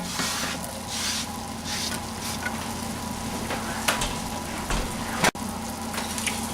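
Onion sizzles in a hot cast iron pan, a steady, close crackle of frying with a few soft stirring scrapes and a clack near the end.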